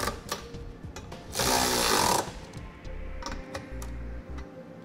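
A wrench runs 19 mm bolts down on a Curt trailer hitch receiver being fitted to a 2003 Infiniti G35. A loud, sustained mechanical burst lasts under a second, with scattered sharp clicks and low knocks before and after it.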